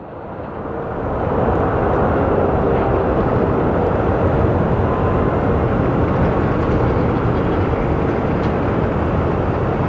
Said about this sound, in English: And then we do have our Sun Country plane coming over right now.